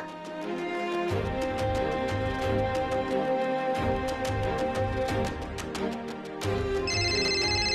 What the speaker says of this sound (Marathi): अगं तुझा फोन वाजतोय.